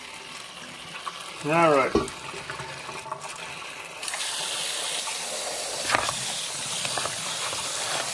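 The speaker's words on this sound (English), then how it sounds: "kind of just get the water running" Tap water runs steadily over kimchi kit vegetables being rinsed in a sink, a continuous hiss that swells after a few seconds, with a brief spoken word early on.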